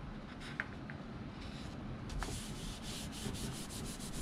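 Paper is pressed and rubbed by hand over a cardstock or mylar stencil, giving faint, close scratchy rubbing strokes in an uneven rhythm, with a few light taps and no talking.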